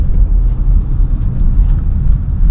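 A 2017 Lexus RX 350 SUV rolls along, its steady engine and road rumble loud and close from inside the cabin, with no voices.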